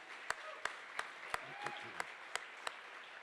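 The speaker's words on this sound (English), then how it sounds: "Everybody, round of applause for Terry, working so hard for us so far this evening." At a charity gala, an audience applauds for a staff member named Terry: a soft crowd patter with a few sharp, evenly spaced close claps standing out, and faint voices murmuring beneath.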